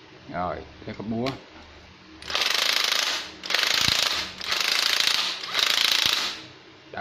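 Japanese cordless drill running in hammer mode, a harsh buzzing rattle in four bursts of about a second each with brief pauses between them, close and loud, after a short spoken remark.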